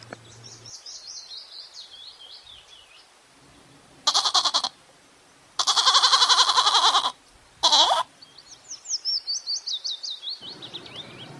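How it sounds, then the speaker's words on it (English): A goat bleats in three loud, wavering bursts, with a short pause between each, set between chirping birdsong that fills the quieter stretches before and after. "G for goat."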